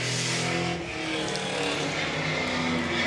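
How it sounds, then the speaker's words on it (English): A Ford Mustang GT350 race car's engine roars loud and steady at high RPM as it crosses the finish line at a racing event, with dense, continuous engine noise throughout. "cranks up the RPM as he goes across the line"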